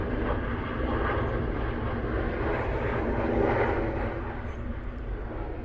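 Passing Delta airliner at Atlanta's airport, a broad, steady jet roar that stays loud and constant throughout with a slight swell midway, no talking heard.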